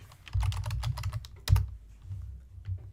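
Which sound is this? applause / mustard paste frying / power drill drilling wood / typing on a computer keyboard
typing on a computer keyboard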